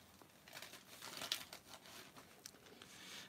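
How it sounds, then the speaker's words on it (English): A gusseted paper bag crinkles up close in a quiet room, giving a run of dry rustling and crackling bursts with one sharper crunch near the middle. "This is another gusseted paper bag. Listen to that sound."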